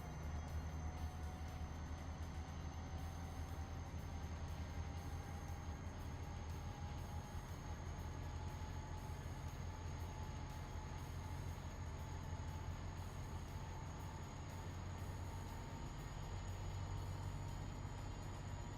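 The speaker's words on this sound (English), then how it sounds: "now we're kind of driving on an active train line" In Euro Truck Simulator 2, a train rolls along an active rail line with a continuous low rumble of wheels on track and a faint high whine running through. The sound holds steady and subdued for the whole stretch, with no speech.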